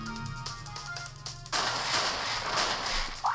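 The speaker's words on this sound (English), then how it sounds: "When you put the bomb there and you explode these walls" Explosions from bombs blasting walls in a mobile Bomberman game sound as sharp synthetic bursts, one sudden loud blast cutting in over a tonal game backdrop, followed by a sustained noisy rush.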